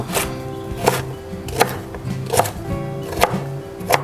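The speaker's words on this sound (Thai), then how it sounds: "หั่นยาวแล้วก็หั่นขวาง" Knife cutting mango on a cutting board, first lengthwise then crosswise, giving about six crisp, evenly spaced chops close by, with no talk.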